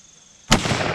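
A single loud, close gunshot at a shooting range, bursting suddenly after a brief near-silence and ringing out for the rest of the moment.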